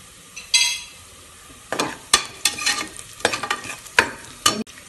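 Onions sizzling in ghee for a mutton kurma, stirred with a utensil in several quick scraping bursts over a soft steady fry, close up and without speech.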